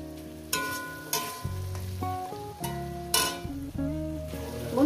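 Shrimp and water spinach (kolmi greens) frying in a pan over a medium gas flame, a steady sizzle running beneath clinks and stirring knocks, with bursts of louder hissing and clear tones from a background voice or music.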